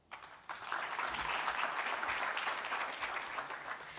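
Audience applause at a festival opening night, a sustained dense round of clapping that swells in after a brief quieter start and holds steady, filling the hall.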